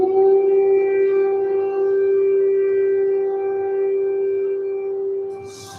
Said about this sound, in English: So we just heard an air raid siren, which means that we have to go outside.